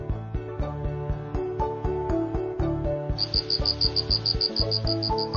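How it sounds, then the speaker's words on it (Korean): Crickets chirp in a rapid, evenly pulsing series that enters halfway through, bright and clear over a bouncy, plucked musical backing in a children's math show. "귀뚜라미 여섯 마리가 이사 왔어요"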